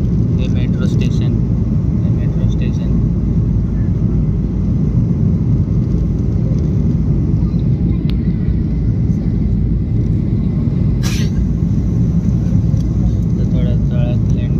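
Loud, steady low cabin roar of an airliner descending toward landing on a flight bound for Kerala, a constant dense engine and air rumble that runs unbroken throughout, with a voice speaking over it.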